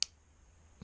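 Scissors snip the tag end of a pike lure trace: a single sharp, quiet click, then a fainter second click just under a second later, in a near-silent room.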